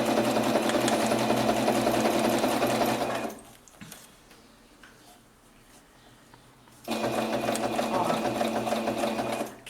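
A sewing machine runs in a steady, loud whir while stitching a cloud-shaped zipper pouch along curves. It stops for a few quiet seconds with faint handling of the fabric, then resumes.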